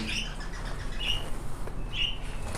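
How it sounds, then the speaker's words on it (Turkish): Crested Japanese bantams in a poultry coop, with a few short high chirps repeating about once a second over steady low background hum, fairly close and moderately loud. "Burada da dinlenen dişi kuşlarımız var arkadaşlar."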